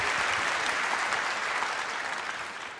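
Applause fills a hall at a sports awards ceremony for a deaf swimming club from Rotterdam, a dense, steady wash of many clapping hands that holds throughout and eases off slightly at the end.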